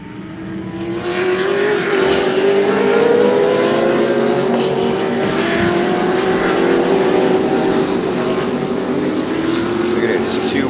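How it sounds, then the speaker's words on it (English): GT race cars, including spec Corvettes, race at Sebring with a loud, continuous engine drone that rises gradually in pitch as the pack accelerates, heard steadily throughout. "So you see there's every variety of different type of GT cars, and I think some of them are spec Corvettes"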